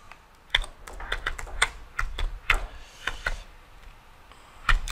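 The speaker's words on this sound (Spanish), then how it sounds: "aquí escribe el nombre de usuario y la contraseña" Username and password being typed on a computer keyboard: a run of crisp, irregular key clicks, close and fairly loud, with no talking.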